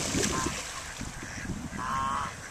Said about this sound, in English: nice little geese